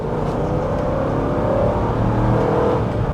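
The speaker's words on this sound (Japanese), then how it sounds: "今5000ちょっとぐらいまで回しましたけど、この踏んだ時のねやっぱり V8 の音はねやっぱりこれで飯食えるっていう感じですね。" A 2010 Ford Explorer Eddie Bauer with a V8 engine revs up to around 5000 rpm, a loud, deep, continuous engine roar that climbs and holds steady for about three seconds, heard close from inside the vehicle.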